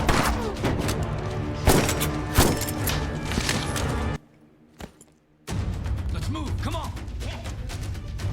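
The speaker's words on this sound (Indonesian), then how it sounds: "di tengah penyergapannya pun terjadilah aksi baku tembak dari kedua pihak" A movie shootout between police and mafia, with dense, loud bursts of gunfire and thuds. The shooting stops briefly for a near-silent gap with one sharp shot, then resumes with busy action noise.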